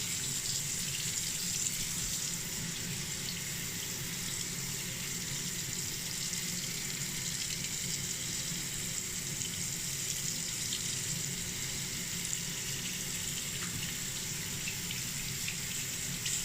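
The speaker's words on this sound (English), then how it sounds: "we're gonna put our arm under the water and kind of rotate it a little bit to get all that soap off" Tap water running steadily over soapy arms in a sink during a hand washing demonstration, a constant close hiss and splash with no break.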